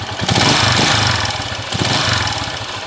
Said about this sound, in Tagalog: Pakinggan muna natin yung andar niya kaninang may sanib.